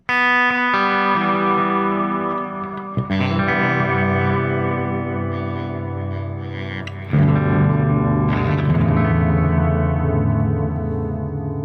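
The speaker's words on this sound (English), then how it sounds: "the first setting on my timeline is my tape delay, which has got some pretty dark repeats on, as you can hear" An electric guitar plays through a Strymon Timeline tape delay set for dark repeats with slight modulation, low feedback and a short delay time; sustained distorted chords and notes ring out, trailed by soft, echoing repeats.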